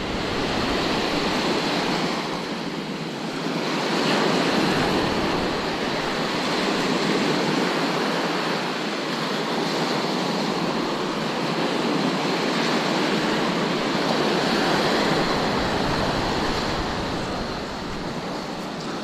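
Heavy surf rolls in steadily on Bavaro Beach at Punta Cana, a continuous loud wash of breaking waves with slight swells in intensity and wind noise, no voices.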